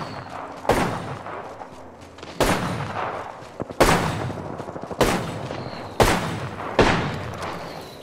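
Gunfire in the video game Apex Legends, sharp loud shots arriving singly and in short clusters about once a second, each followed by a decaying tail.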